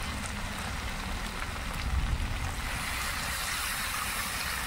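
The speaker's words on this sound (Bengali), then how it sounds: "মাংস কষানো হয়ে গেছে, এখন এবার জল দিয়ে দিচ্ছি" Water poured into a pan of sautéed mutton for a curry gives a steady splashing, sizzling wash of sound, close and continuous with a slight swell midway, and no talking.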